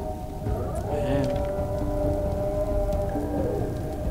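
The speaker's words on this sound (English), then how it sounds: "I just heard something roar" A creature roaring in the horror video game Nightmare House 2: a low, sustained, droning growl with wavering tonal layers, heard steadily for several seconds against a dense rumbling game background.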